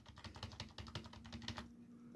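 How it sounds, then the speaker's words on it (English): Repeated rapid presses of the ESC key on a computer keyboard during startup, a quick steady series of close plastic clicks lasting about two seconds. "Now press ESC button continuously from the keyboard."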